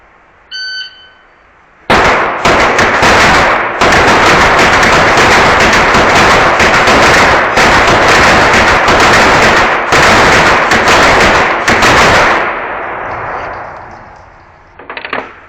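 Rapid pistol gunfire from Glock handguns at an indoor sport shooting event, loud, sharp shots fired in fast bursts with brief pauses between strings, echoing in the range; a short beep sounds beforehand.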